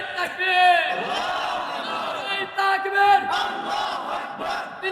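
A large crowd at an outdoor religious gathering shouts the takbir together in a loud, rhythmic chant, with several rising and falling waves of massed voices.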